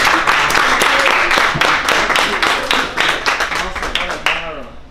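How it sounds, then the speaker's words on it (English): An audience claps in a burst of applause that gradually thins out, with voices heard over the clapping. "Let's give her one more round of applause."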